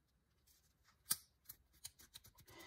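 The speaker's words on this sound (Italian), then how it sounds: "il click avviene abbastanza bene, non so se riuscite a sentirlo" A strap clicks into an Apple Watch case cover, giving a few small, sharp plastic clicks and snaps up close in a quiet room, the loudest near the start and a run of lighter clicks after it.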